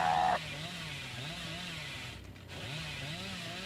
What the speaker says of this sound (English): I've seen hillbillies that almost never miss a chainsaw.